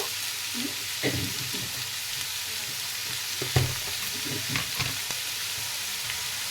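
Capsicum and onion frying briefly in a pan for chili chicken, a constant close sizzle broken by a few sharp spatula knocks and stirring scrapes.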